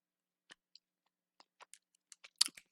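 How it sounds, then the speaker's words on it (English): Fruit snacks are chewed close to the mic, a quiet series of short, sticky, crunchy bites and mouth clicks at irregular intervals against near silence. "you can hear me chewing"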